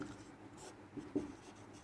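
During a class 12 calculus lesson on the chain rule, a teacher writes on a board with a few soft, faint strokes and taps, heard close and alone in a quiet room.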